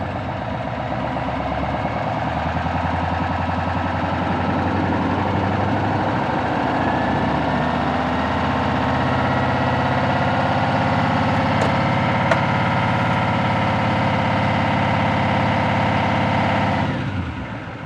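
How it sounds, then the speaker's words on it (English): A 2018 L5P Duramax diesel truck idles with a steady low rumble and a faint high supercharger-like whine over it, close and continuous until the sound cuts off near the end. "I don't know if you guys heard that almost sound like a supercharger whine"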